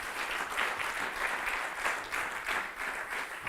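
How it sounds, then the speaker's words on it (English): Crowd applause at an esports research conference for JIBS and MMTC, a thick continuous patter of many hands, moderately loud and even throughout with slight swells. "So can everyone give JIBS and MMTC a round of applause,"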